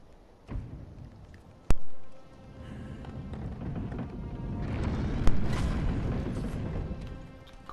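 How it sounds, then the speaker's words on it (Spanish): Firecrackers going off in Sekiro: Shadows Die Twice, a few sharp cracks and booms at irregular intervals over a rumbling, crackling background, loud and close with no talk. "Petardos de estos."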